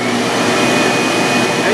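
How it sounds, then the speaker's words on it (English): A shop vacuum roars steadily at close range, a loud, constant whine and rush of air with no pauses. "So here we go, vacuum first."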